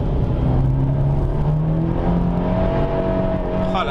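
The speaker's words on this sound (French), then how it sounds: "Le moteur multi-air de 140 chevaux, il est plutôt véloce" Abarth 124 Spider with a 1.4 MultiAir turbo engine of 140 horsepower being driven on a race circuit, its engine note holding a steady loud drone with a slowly rising pitch as it accelerates throughout.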